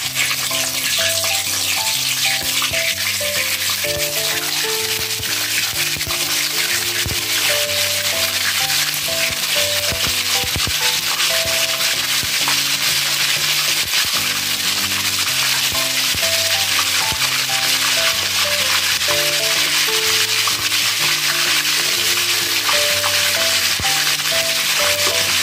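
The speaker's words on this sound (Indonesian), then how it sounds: "mau goreng ya" Bone-in food frying in a pan, a loud, even, continuous sizzle and crackle that runs without letup under steady background music, with no one talking.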